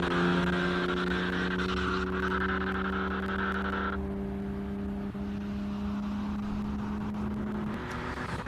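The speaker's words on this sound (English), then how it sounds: "The Porsche 914 is back out." Porsche 914 classic car at the Simola hill climb, its engine droning loud and steady with clear tonal harmonics that shift as it climbs through the gears, then fading slightly as it pulls away up the course.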